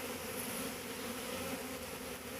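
A honeybee swarm hums in a dense, continuous drone close by, steady and unbroken with no voices.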